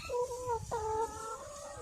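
Laying hens on a farm in hot weather cluck close by in two drawn-out, wavering calls separated by a short gap, with faint background noise.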